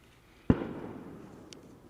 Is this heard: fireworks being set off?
yes